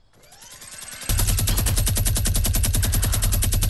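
Fortnite gunfire: after a second of rising buildup, a rapid, sustained burst of automatic weapon fire rattles on steadily at close range and high volume, with no voices.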